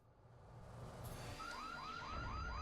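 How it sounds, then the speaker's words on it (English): An electronic alarm from the Batman & Robin PS1 video game rises out of a low ambient drone, sounding as a series of repeated swooping chirps that pulse evenly at a moderate level. "Oh boy, more alarms."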